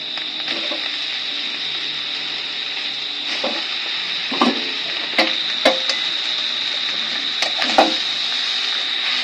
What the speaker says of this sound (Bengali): এখন ভালো করে চাউমিনের সাথে সব সবজি মিক্স করে নেব।